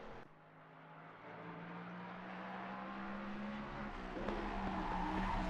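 A Mustang race car in a sim racing game drives hard over curbs, its engine a steady, gradually rising drone heard at moderate distance, faint, with no talk.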